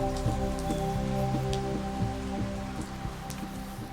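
A heavy downpour of rain falls at an ape sanctuary, a steady close patter and hiss of drops striking surfaces, with steady irregular drips over a constant low background and no voices.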